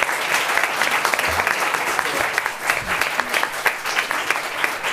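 Audience applause at a higher education round table, a steady dense clapping from a sizable crowd in a conference hall, sustained and fairly loud for the whole stretch.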